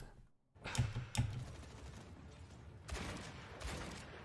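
Gunfire in the video game Overwatch on the Lijang Tower map, several sharp shots cracking in quick bursts over a busy, low-level game mix with no voice.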